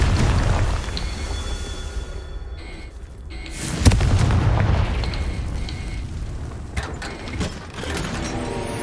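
Bombarda and Confringo spell blasts in the video game Hogwarts Legacy, deep booming explosions with rumbling debris and a sharp crack near the middle over a steady game background, with no talking.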